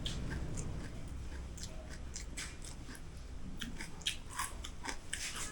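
Crunchy Filipino chicharon with a meat filling being bitten and chewed up close, a run of sharp crackling crunches that repeat steadily over a low mouth-noise bed, with no talking.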